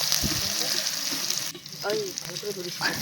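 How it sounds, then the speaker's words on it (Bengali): Small baria eggplants frying in a pan as they are stirred, a steady broadband sizzle with a few scraping stirs and brief utensil sounds, close and moderately loud, no talk. "তো বেগুনটা এবার একটু নাড়াচাড়া করব"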